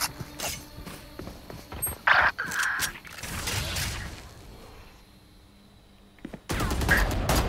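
Weapon reloading in the VALORANT video game: a quick series of sharp mechanical clicks and metallic clacks, followed by a few seconds of quiet and then a louder burst of mechanical noise near the end.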